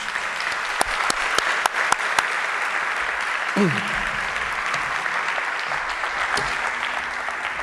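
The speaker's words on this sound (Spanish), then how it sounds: "recibamos con un fuerte aplauso a Rafael Palacios." Audience applause at a lecture event fills the clip, a dense patter of many hands clapping with a few sharper claps standing out, steady before easing off.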